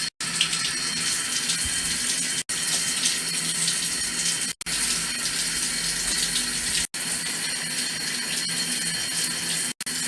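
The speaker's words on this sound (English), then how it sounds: "Pretty sure she likes to shower as much as I do." A tap runs in a strong, continuous gushing stream while a pet parrot is showered under it. The stream breaks off briefly every couple of seconds, and the close, loud water drowns out everything else.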